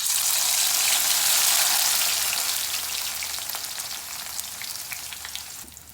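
Bitter gourd pieces fry in hot oil in a kadai, giving a loud, bright sizzle with crackling pops that slowly fades over a few seconds.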